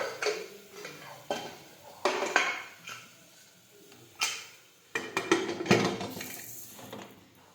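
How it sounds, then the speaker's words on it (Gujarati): A pressure cooker lid is closed over a peas, potato and tomato curry, giving several separate metallic clanks and scrapes with quiet gaps between them, close and fairly soft. "હવે આપણે કુકરનું ઢાંકણ છે તે બંધ કરી દઈશું"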